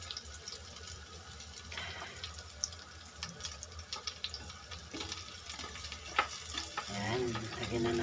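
Chopped onions frying in a pan for goat adobo, giving a steady close sizzle broken by scraping and clacking as they are stirred. A watery gurgle joins near the end, and no one speaks.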